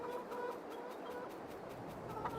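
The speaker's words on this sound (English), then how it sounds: "Bloody chickens." Chickens cluck in the Farming Simulator 22 video game, a soft run of overlapping clucks over a low, constant background hum, with no talk.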